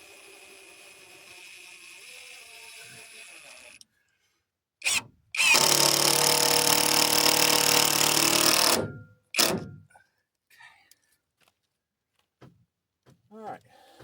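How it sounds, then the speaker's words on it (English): Power drill driving screws into T1-11 plywood siding on an off-grid cabin build, one long steady whirring burst of about three seconds followed by a shorter zip, with a faint motor hum beforehand and quiet pauses. "usually on this T111 you're supposed to put the screws in the grooves"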